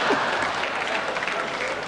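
A theatre audience at a comedy and music performance breaks into dense, sustained applause that fills the whole short moment, with no other sound standing out.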